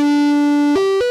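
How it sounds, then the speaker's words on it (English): Korg MS-20 synthesizer with its headphone output patched back for distortion: a buzzy, harmonically rich tone holds, then steps up through two quick pitch changes, loud and close, no talking. "And you can get some distortion effects with some experimentation"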